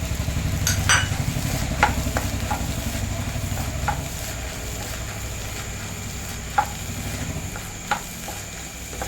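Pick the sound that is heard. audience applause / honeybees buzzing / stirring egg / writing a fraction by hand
stirring egg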